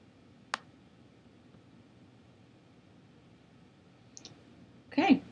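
A computer mouse clicks on an Install button. A single sharp, quiet click comes first against near silence, then a pair of faint ticks, then a louder, brief clattering burst at the end.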